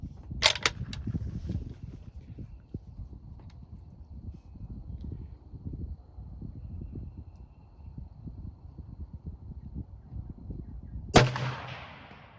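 Two sharp gunshots from an L42A1 Enfield sniper rifle at an outdoor range, one near the start and another around eleven seconds, each a loud crack with a ringing tail, separated by steady low wind rumble.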